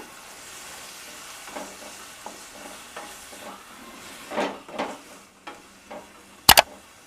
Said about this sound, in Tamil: உருளைக்கிழங்கு கத்திரிக்காய் நல்லா எண்ணெயிலே வதங்கிருச்சு